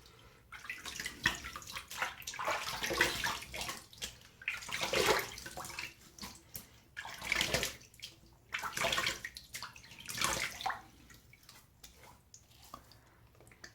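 A tap runs into a sink while someone splashes water onto their face, with uneven surges of rushing and splashing water, close by and with no talking.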